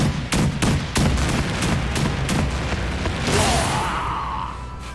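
Frankie's cannon attack in the One Piece Odyssey video game: a rapid volley of loud, sharp blasts up front, then a rising whoosh and lingering explosive rumble, fairly close and prominent.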